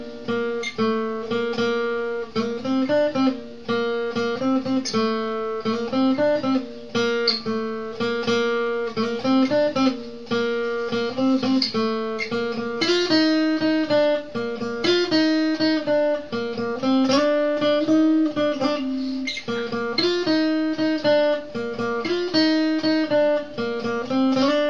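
Guitar playing the combined first and second sections of a song, a steady, loud melodic line of plucked notes over sustained chords, continuous for the whole stretch with no voice.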